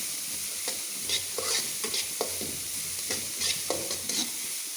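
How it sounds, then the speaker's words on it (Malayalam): Carrots are stirred and sautéed in a pan with ghee for Kerala-style ghee rice. A soft, steady sizzle runs under repeated scraping strokes of the spoon, heard close and quiet, with no talking. "ക്യാരറ്റും കൂടി ഒന്ന് വഴറ്റിയെടുക്കാം."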